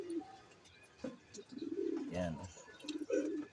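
Pigeons being bathed and disinfected coo in short, soft, low bursts close by, mixed with splashing handling noises and brief speech.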